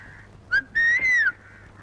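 A person whistles at someone, a brief shrill note followed by a longer rising-and-falling wolf-whistle over faint background murmur.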